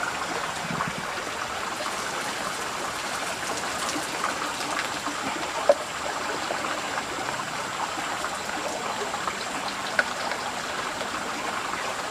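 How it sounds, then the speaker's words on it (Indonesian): Water poured out of a container outdoors, a continuous splashing trickle like a small stream that holds steady throughout, with a couple of faint knocks and no talk. "Ini kita buang airnya nih. Buang airnya."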